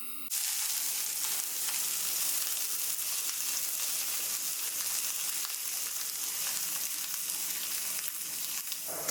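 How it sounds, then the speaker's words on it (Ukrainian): Carrots and bell pepper hit a hot pan and fry, a steady, loud hiss of sizzling that starts abruptly and continues evenly without talk. "Зараз підуть смажитись морква і перчик"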